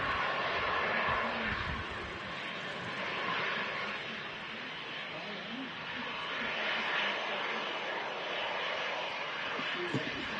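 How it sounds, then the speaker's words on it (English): An EasyJet Airbus A320 with sharklets at Manchester Airport sends a steady engine roar and hiss across the whole stretch, while people talk over it. "Whiskey Zulu on the reg of this EasyJet A320 with the sharklets"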